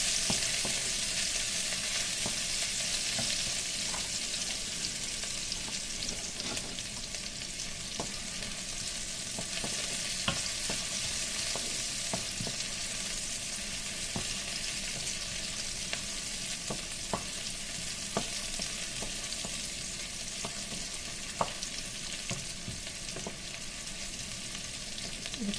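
Mutton and a small onion fry in a pan for a restaurant-style mutton masala, making a constant soft sizzle. Scattered scraping clicks of stirring sound close by throughout, with no voices.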